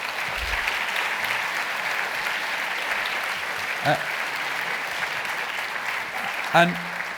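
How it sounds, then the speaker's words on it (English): Conference audience gives the panel a big round of applause, dense clapping sustained for several seconds, with a couple of brief louder sounds and a voice cutting in near the end. "So a big round of applause to everyone."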